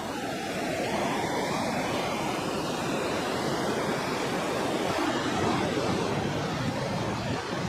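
A constant roar of rushing, falling water from Augrabies Falls in South Africa, broad and steady throughout with no pauses, heard from nearby.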